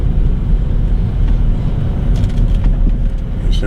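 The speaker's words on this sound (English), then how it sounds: "Got a lot of cars coming in too." Cars passing on a road with many speed bumps, heard as a steady broadband traffic rumble and wash, moderately loud and continuous with no clear individual pass-by.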